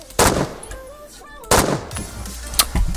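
Gunfire in the online shooter game Phantom Forces: two sharp, loud weapon bursts about a second apart, followed by fainter shots and game sounds in the background.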